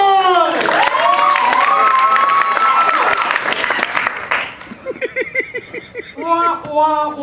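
A performer at a library makes a warm round of audience applause, a dense clapping wash with whooping vocal tones over it, breaking into short chirpy sounds near the end; a voice appears to imitate the applause.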